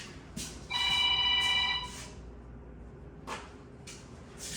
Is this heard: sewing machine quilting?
no